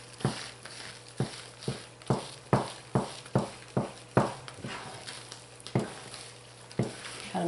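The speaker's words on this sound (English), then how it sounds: "So let's give it a stir." Homemade lard soap being stirred in a pot, a series of about fifteen sharp scraping strokes at a brisk, fairly regular rhythm, close and distinct over a low steady hum.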